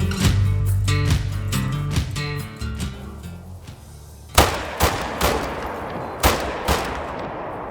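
Quist Reaper 7.62x39 rifle in the hunting video game Call of the Wild, a loud rapid burst of close gunfire followed by several single shots spaced about a second apart.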